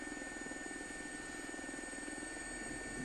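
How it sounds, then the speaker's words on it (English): Simulated helicopter hovering in a VR flight simulator on a flight to Windsor Castle, with a constant rotor drone and a rapid, even blade chop plus a thin high whine, heard steadily with no talk. "So we just hold the helicopter in the hover."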